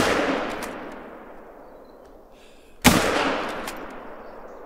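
A single sharp rifle shot rings out in theHunter: Call of the Wild while hunting a fallow deer, a loud crack with a fading tail, following another decaying report at the start.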